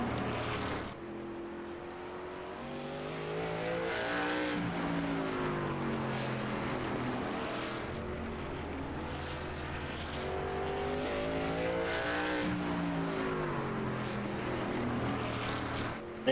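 Racing truck engine from a racing video game droning steadily through a hot lap, with rising and falling pitch as it shifts and corners, loud and continuous throughout.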